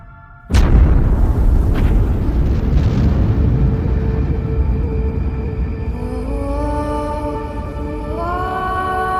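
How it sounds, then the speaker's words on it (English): An exploding-star supernova effect bursts in with one sudden, massive boom, then a long, loud rumbling roar that slowly fades while a rising tonal shimmer swells near the end. "the star collapses and then explodes with the brightness of 1 billion suns"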